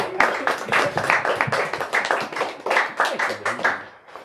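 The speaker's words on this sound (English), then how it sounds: "Let's give one more hand of applause" Audience at a literary reading event claps in a dense, rhythmic burst of hand claps that continues steadily throughout, fading slightly at the end, with no voices over it.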